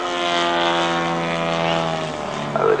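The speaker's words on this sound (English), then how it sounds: "it's called a Piper Cub" A Piper Cub model aeroplane flies at an outdoor model air show, its propeller engine droning loud and steady with a whining pitch that dips slightly as it passes.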